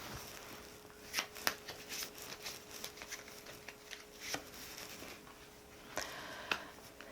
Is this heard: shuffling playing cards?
yes